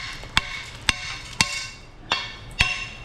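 Five sharp metallic taps, spaced about half a second apart, knock at rusted welded metal to loosen old grease, each ringing briefly, close and clear.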